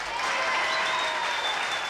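Brief, steady studio audience applause for a guest during a 1977 television interview: a thick burst of many hands clapping that holds level for its whole short span, with no talking over it.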